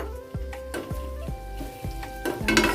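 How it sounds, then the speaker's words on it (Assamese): Pork fries in a pan with ginger and garlic as a utensil stirs it, giving repeated clinks and scrapes over a continuous soft sizzle, close and moderately loud, with no voices. "আদা নহৰু পিচি কৰি কিনে দি দিছোঁ অলপমান ভালদৰে মিক্স কৰি দিব"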